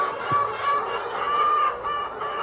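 Lohmann Sandy hens cluck steadily in a coop, a close, continuous flock chatter with a short rooster-like call near the start and no talking.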